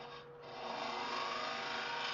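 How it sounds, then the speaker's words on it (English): Wood lathe with a turning tool cutting wood for a canine burial urn, a close, steady scraping whir with a faint motor hum that swells slightly as the cut deepens. "The lathe and the tool is going to do all the work for me."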